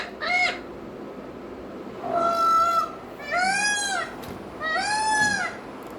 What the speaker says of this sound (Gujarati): આ મોરલો છે, મોરલા ઉપર મૂકશું આપણે.